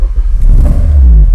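A Honda K24 engine swapped into an EP3 Civic with individual throttle bodies fires up after cranking, then rumbles and revs with a loud, close, deep throb that swells and holds steady, with no talk.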